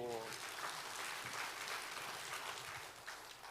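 A crowd claps steadily throughout, a dense wash of applause with a few voices mixed in, fading slightly at the end.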